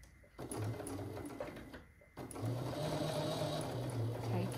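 A sewing machine stitches through quilt fabric in two bursts of steady whirring, the second one longer, with brief quiet pauses between.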